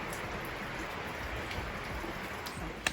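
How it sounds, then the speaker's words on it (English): Steady rain pours down outdoors around a garden dome with potted plants, a constant dense hiss of drops hitting surfaces, even and unbroken, with no voices. "Listen to that rain come down."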